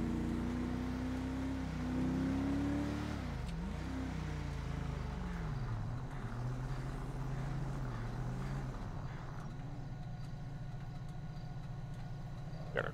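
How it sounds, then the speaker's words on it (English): A car creeping slowly through a park at about 25 mph in GTA 5, its engine a steady low drone that dips and rises with light throttle changes, then settles to a quieter idle-like hum. "Got a car that's creeping, but they're in the park, so they're doing a speed limit."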